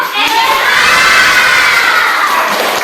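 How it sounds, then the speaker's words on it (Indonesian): Schoolchildren in a classroom cheer and shout together after a group presentation, a loud, dense burst of young voices that holds steady for a few seconds with no clear speech on top. "Kita tepuk tangan dulu untuk kelompok."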